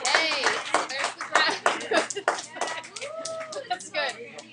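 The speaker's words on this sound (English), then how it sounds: "Clap if you agree with both Shuggy and Aiden." Classroom students in an algebra lesson clap together, a dense burst of close hand claps that thins out toward the end, mixed with children's cheering and voices.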